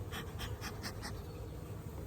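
Honey bees at a hive stirred up by beehive smoke give off a steady, close, dense buzzing that holds evenly throughout.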